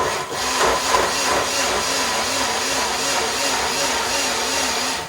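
A loud, whirring kitchen blender runs steadily, its motor pitch wobbling as the contents churn, close and continuous.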